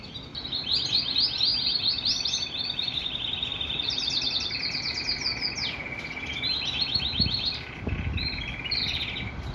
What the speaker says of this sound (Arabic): هسه راح أصور لكم التغريد مالته